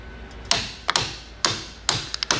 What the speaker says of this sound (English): the ratcheting system makes sure that there is a specific torque applied